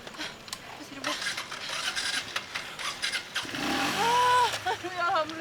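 A motorcycle engine catches and starts up after some scraping and handling noises, rising into a loud, steady running tone toward the end, with voices talking over it.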